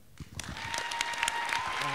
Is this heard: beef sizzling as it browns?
no